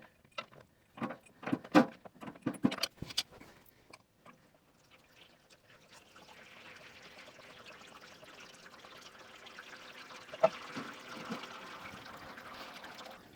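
Hydraulic fluid from a tractor trickling steadily into a drain pan, a soft continuous pour after a few sharp clanks of tools and metal at the start, running faint and even to the end.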